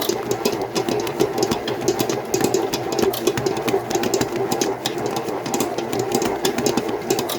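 Bread dough for a milk loaf, mixed with milk instead of water, slaps and knocks against the bowl of a running kneading machine. The motor hums steadily underneath and quick rhythmic thuds come close and loud throughout.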